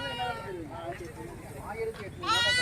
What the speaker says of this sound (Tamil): உங்களுக்கு பார்த்தா எக்கச்சக்கமான ஆட்டுக்குட்டிகள் வந்திருக்கு